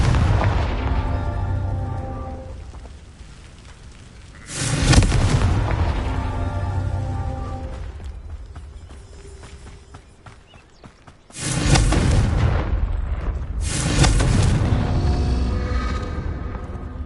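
Confringo explosive spell from the video game Hogwarts Legacy: three loud booming blasts, each a sudden burst fading into a rumbling tail, separated by quieter gameplay ambience.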